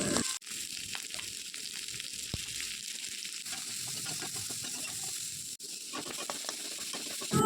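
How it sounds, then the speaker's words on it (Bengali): Grated coconut and pointed gourd fry in oil in a pan, a continuous close sizzling hiss with small crackles and no voices. "ওদিকে এখনও পটল ভাজা হচ্ছে আর করবো এখন নারকেল ভাজা"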